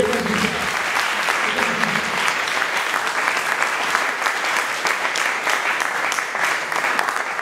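Sustained, dense applause from an audience at a talk on a nationality law, a steady wash of many hands clapping at full strength for the whole stretch, with no voices standing out above it.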